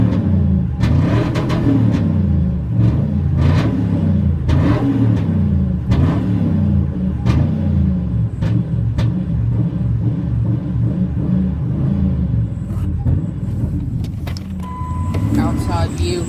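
The engine of a supercharged 2000 Ford F-150 with a 5.4-liter V8, Zeal exhaust, Flowmasters and headers idles with a loud, close rumble and is blipped up in repeated revs, with a voice talking over it.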